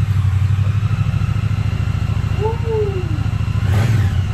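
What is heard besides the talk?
2020 Triumph Bonneville T100 motorcycle engine revving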